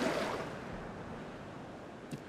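Water being added to a dinosaur park in Jurassic World Evolution 2, a soft, broad watery rush that starts strongest and slowly fades, with a faint splash near the end.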